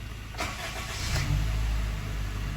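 A car with a dead battery, being jump-started, cranks briefly and catches, then settles into a steady low idle rumble close by.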